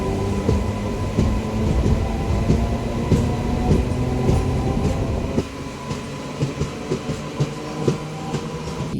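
A Kachiguda–Raichur MEMU train hauled by a WAG9 locomotive gets moving after a halt, with a loud steady rumble and rhythmic wheel clatter on the rails that eases into spaced clicks toward the end, heard from onboard without talk.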